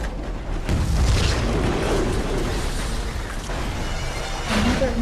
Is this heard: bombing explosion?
yes